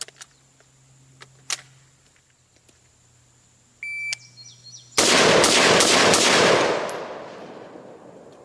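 An AR-15 with a short 7.5-inch barrel firing a rapid string of shots on a rifle range, loud cracks crowding into one another, preceded by faint beeps and quiet handling noise, then fading into echo.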